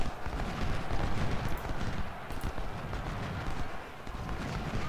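Brigades trade musket fire in Ultimate General: Civil War, a steady, crackling fusillade of overlapping distant shots over a rumbling battlefield din.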